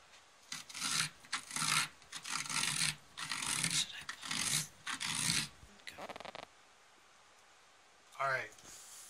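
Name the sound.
scraping out the inside of a carved pumpkin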